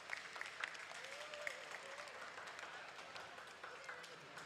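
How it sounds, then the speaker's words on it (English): Applause from a lunchtime concert audience for a female performer, steady clapping throughout at moderate distance, with faint voices and a few whistle-like tones mixed in. "Let's give her another round of applause."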